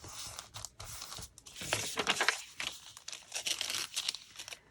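Paper being cut and handled while making pink paper bags, a close run of crisp crinkling and tearing-like snips that swell and fade over a few seconds with no talking.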